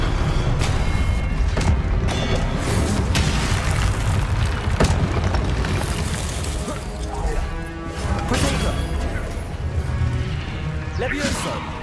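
Confringo blasting spells detonate in Hogwarts Legacy, a video game: loud repeated booms and crashing impacts keep breaking through a dense, continuous bed of game sound.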